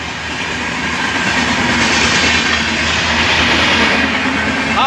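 A train rolls past near a site where hydraulic oil is being changed on a Volvo 210 excavator, a loud steady rumble with clattering wheels that swells slightly and then holds throughout.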